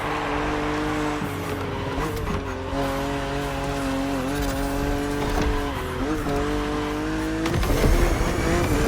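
BMW Z4 E89 coupe cabriolet driving in The Crew Motorfest racing game: a loud, sustained engine drone that rises and dips with revving, with tire squeal and an engine surge near the end, under a speaking voice.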